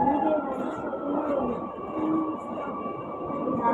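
A Kochi metro train stands at the platform, giving a steady low electric hum and rumble that holds for the whole stretch at moderate volume, with no voices over it.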